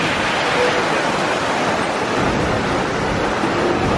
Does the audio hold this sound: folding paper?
no